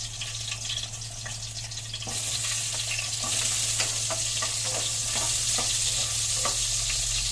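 Garlic and then onion sizzle in hot oil in a pan while it cooks for miso sinigang with tanigue fish, the frying growing louder partway through and broken by the clicks and scrapes of stirring.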